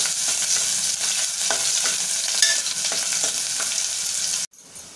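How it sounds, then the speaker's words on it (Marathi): Chopped onion sautéed in hot oil in a pan for Malvani chicken, a steady close sizzle with scraping stirs, alone without talk, cutting off near the end. "छान असं परतून घेऊया"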